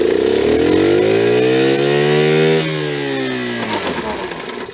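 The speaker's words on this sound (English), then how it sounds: "I don't know if third gear is clanky or something's just rattling in third gear." A restored Honda Z50 minibike engine revs in third gear, a loud buzzing, harmonic whine that climbs steadily, then drops as the throttle eases, with a rattling, clanky edge near and continuous.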